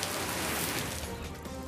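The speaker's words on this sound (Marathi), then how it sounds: "परिसरात पावसानं सलग 5व्या दिवशी दमदार हजेरी लावली." Heavy rain pours down in Maharashtra as a dense, continuous hiss of drops hitting surfaces, steady and loud for the whole short stretch with no voices.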